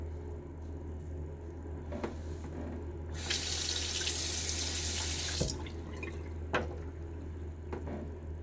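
A bathroom tap gushes for a couple of seconds to rinse a razor after a wet shave, a steady close rush of water framed by small clinks and drips in a quiet room.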